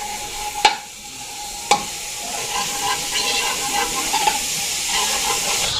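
Margarine sizzles in a hot pan for seafood fried rice: a steady close hiss of frying fat, broken by a couple of sharp clicks from a utensil against the pan.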